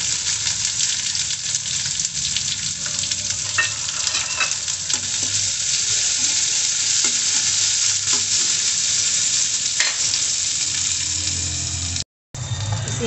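Chillies, cumin and chopped onion frying in a pan while being stirred, a loud, continuous close sizzle with occasional scraping stirs and a brief cutout near the end.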